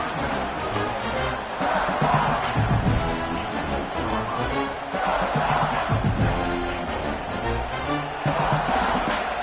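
Stadium crowd in a college football video game roars steadily near the goal line, a dense continuous cheer swelling in waves, with a commentator's voice faintly mixed in.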